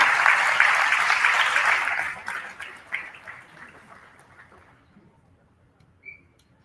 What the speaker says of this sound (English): Thank your parents right now because they deserve a round of applause